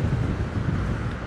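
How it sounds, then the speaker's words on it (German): Wind blowing across a beach in southwestern Corsica, about 30 km north of Bonifacio, gives a steady, blustery low rumble that buffets the microphone without a break, with no voices. "Und der Wind geht noch immer."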